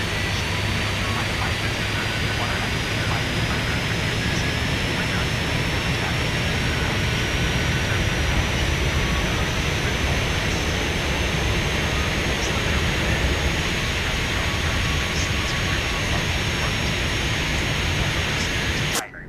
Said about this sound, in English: Engines are fired up.